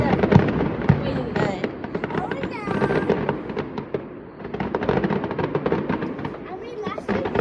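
Fireworks bursting in the sky at a celebration: repeated booming and crackling explosions that come close together, loud and near, while people talk excitedly underneath.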